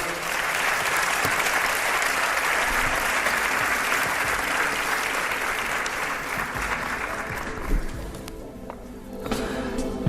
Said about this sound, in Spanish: un aplauso os pido para él